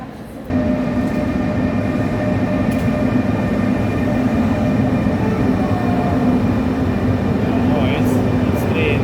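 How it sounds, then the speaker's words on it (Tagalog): A long blue-carriage international train rolls through a large station in Vienna, Austria, with a steady rumbling drone and hum while people talk nearby. "Oh, it's train."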